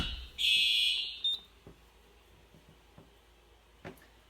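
A home fire alarm system test: a loud, piercing smoke-alarm tone blares for about a second near the start, then cuts off, leaving faint clicks and a quiet room.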